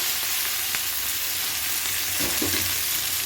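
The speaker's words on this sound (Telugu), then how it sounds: "మొత్తం మంచిగా వేయించుకొని ఆకంతా ఆయిల్లో ఉడికేటట్టు పచ్చిమిర్చి కూడా ఆయిల్లో మంచిగా వేడితే" Drumstick leaves and green chillies fry in hot oil with a dense, steady sizzle, loud and close, broken by a few soft stirring scrapes near the end.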